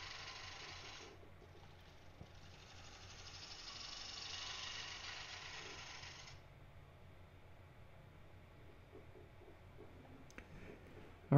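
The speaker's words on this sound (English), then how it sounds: "Now with my heavier bowl gouge, this is the 5/8 inch bowl gouge, I'm going to make some roughing passes." A wooden salad bowl spins on a lathe as a 5/8 inch bowl gouge takes roughing passes, a faint steady hum and hiss of cutting that swells in the middle and eases off, with a few light clicks.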